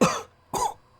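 Two sharp, close coughs about half a second apart, each a harsh burst that trails off quickly.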